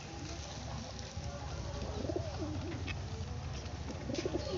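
Several domestic pigeons of various fancy breeds coo in a home loft, low rolling calls repeating close by over a steady noisy background, with occasional wing flutters.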